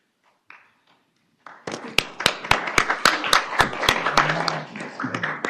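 Council meeting audience clapping after a poster contest winner is named: a few faint sounds, then a crowd bursts into steady applause with sharp individual claps standing out, sustained for several seconds at close range.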